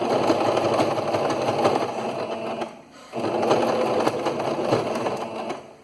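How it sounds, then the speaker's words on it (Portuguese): A domestic sewing machine runs close up stitching a cotton dish towel, a fast steady mechanical whir in two bursts split by a short pause, with no talking. "Mas a gente consegue costurar. Tá chegando já aqui no final."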